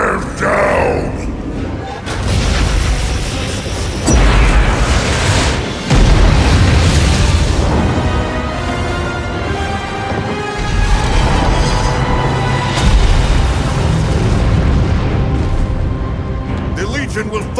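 Heavy booming explosions from the Legion bombardment in the strategy game Warcraft 3 roll on continuously, loud and dense, with shouting voices and battle noise layered over the blasts.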